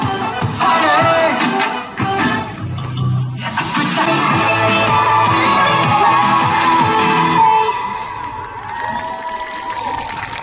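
A university sports festival opening ceremony crowd, led by a cheer squad, erupts in loud cheering, whoops, shouting and applause that fills the space for around ten seconds before easing slightly near the end.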